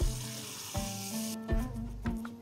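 Spices frying in hot oil in a pan for sate padang, a steady close sizzle with a few short scraping bursts as the mixture is stirred.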